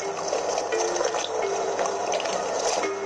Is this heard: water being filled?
yes